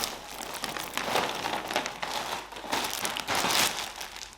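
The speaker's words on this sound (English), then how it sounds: "Excuse all the rustling." A plastic clothing package is opened close up, giving several seconds of continuous loud crinkling and rustling with no talking.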